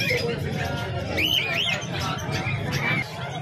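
Pet birds, including lovebirds and parakeets, chirp and trill in quick, bright bursts at a pet market, over a steady crowd murmur and background chatter.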